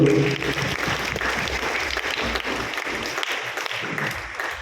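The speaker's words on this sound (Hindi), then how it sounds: "जोरदार तालियां इनके लिए।" Applause for a seventh-grade student who gave a correct answer, a steady wash of many hands clapping, moderately loud and continuous, fading slightly toward the end.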